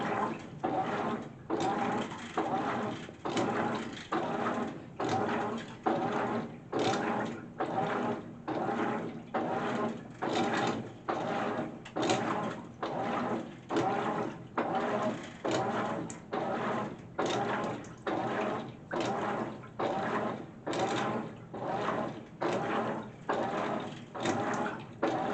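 A GE top-load washing machine runs its casuals cycle, the agitator sloshing water and clothes in a steady back-and-forth rhythm of roughly one stroke per second, loud and close for the whole stretch with no break.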